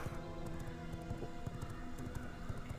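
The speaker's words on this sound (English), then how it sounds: "Yeah, we're riding the horse." Horse hooves clip-clop in a steady, rapid rhythm while riding in the video game Albion Online, with game music or ambience sustained beneath the close, even hoofbeats.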